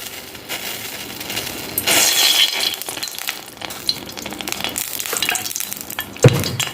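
Oil heating in a pan for okra pulimunchi, a broad hissing sizzle that swells and fades with stirring scrapes and a few light clinks, close by with no talk.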